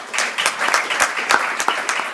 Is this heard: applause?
yes